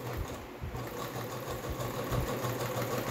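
A sewing machine runs continuously over the cut areas of a blouse, giving a steady, close mechanical whir with a fast, even stitching rhythm throughout.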